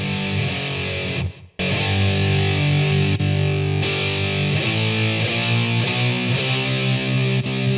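Heavily distorted electric guitar lead through a 1996 Line6 AxSys 212 modeling amp set to a Mesa Boogie tone, playing sustained, loud notes that shift pitch and glide between them, with a brief gap early on and no talking.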